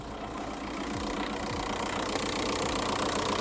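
A Seat Altea's freshly rebuilt engine idles cold just after starting. The close, steady mechanical rumble carries a faint rhythmic ticking and a continuous broadband hum, with no one speaking.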